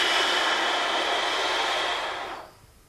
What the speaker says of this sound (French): c'est que tu souffles fort et longtemps, comme moi